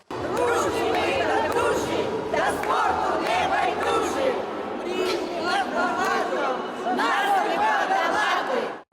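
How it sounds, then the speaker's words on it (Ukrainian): Sports fans in the stands at a community fitness event cheer, chant and shout together, a loud continuous crowd roar with many overlapping voices throughout. "Сидячи на трибунах, вони вболівали як могли, махали прапорцями, співали і плескали в долоні."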